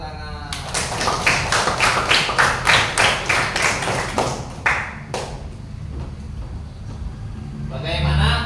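Children in a classroom clap their hands together in a rhythmic, regular series of claps for about four seconds, close and fairly loud, followed by quieter room noise and a brief voice near the end.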